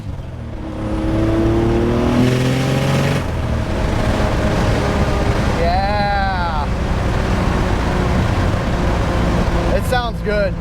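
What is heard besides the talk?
project car accelerating with open wastegates and backfire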